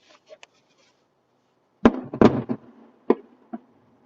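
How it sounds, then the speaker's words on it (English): Magic Kingdom fireworks during a test launch boom in a few sharp, separated bursts: two faint pops early, then a loud cluster of heavy bangs with rumbling tails, followed by two more lone blasts further apart. "It's really cool to see the fireworks back again."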